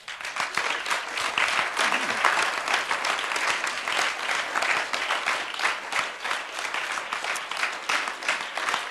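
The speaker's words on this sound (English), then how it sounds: "So why don't you give yourself some last applause?" A hall audience applauds in a dense, sustained burst of clapping that stays loud and even throughout, with some voices faintly mixed in.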